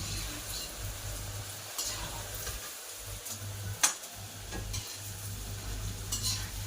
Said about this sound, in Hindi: अभी फ्राई हो गया, थोड़े से और गोल्डन ब्राउन से करके